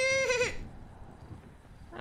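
A voice imitates a sheep's bleat in a short, wavering, nasal cry during a deer hunt in GTA roleplay, followed by quiet background noise.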